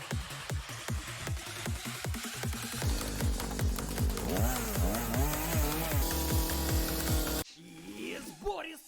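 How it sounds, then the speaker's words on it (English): A loud chainsaw revving and cutting through food for soup, its buzzing engine rising and falling in rapid pulses for several seconds before stopping abruptly, followed by brief quieter sounds. "if he needs only to cut everything with the chainsaw"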